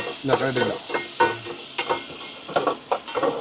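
Fenugreek seeds, garlic and tomato sizzle loudly in a hot pan on a truck's cooking setup, with a steady broadband crackle broken by repeated stirring scrapes and bursts of spitting oil, close and continuous for a few seconds.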